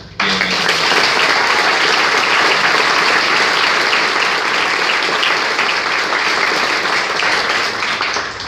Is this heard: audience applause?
yes